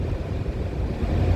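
A Vespa GTS 300 scooter out on a ride produces a steady low engine rumble mixed with rushing wind noise, close and fairly loud, with no talking.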